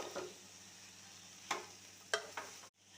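Cooked cowpeas tossed with chili powder in a pan give a soft, steady scraping and faint sizzle, with a few sharper spoon scrapes against the metal near the end before the sound cuts off.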